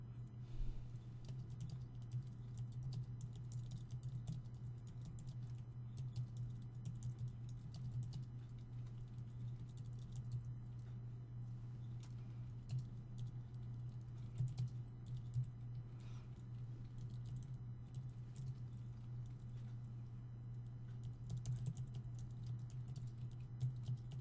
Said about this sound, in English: Let me just finish typing this response for Pat's question.